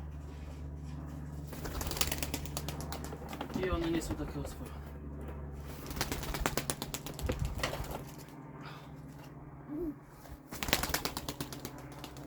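A flock of pigeons flaps its wings in a series of quick, papery bursts near and far, with someone speaking over much of it.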